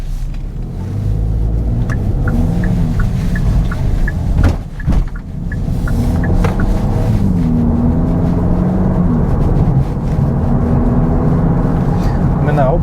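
A 2021 Hyundai Elantra N Line driving over bumps and through a corner, heard from inside the cabin as a steady road and engine rumble with a few brief thumps midway.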